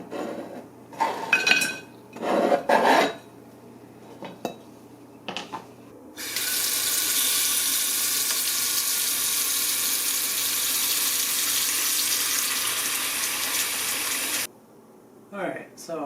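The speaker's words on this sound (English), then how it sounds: "put it in the crock pot and fill it about halfway full of water" Tap water runs into a crock pot being filled about halfway for chaga tea. A few clinks and knocks of handling come first, then a steady rushing stream that lasts several seconds before cutting off.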